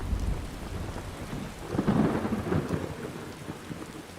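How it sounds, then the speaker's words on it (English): Steady rain with a low rumble of thunder swelling in the middle, heard in the video game Skyrim; moderately loud, no talk. "it probably also doesn't help that it's raining in game"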